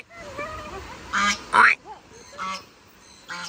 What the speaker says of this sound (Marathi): ये एक बदक दुसऱ्या बदकाला हाक मारते